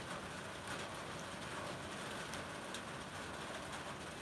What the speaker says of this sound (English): Seriously, we've got rain.